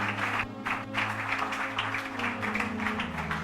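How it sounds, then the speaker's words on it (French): A church congregation applauds to acclaim the word of the Lord, a sustained wash of clapping at moderate volume with a low musical drone or hum underneath. "Acclame pour la parole du Seigneur."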